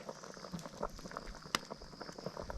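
Sinigang soup bubbling in a pot, soft irregular pops and gurgles close by with one sharper crackle.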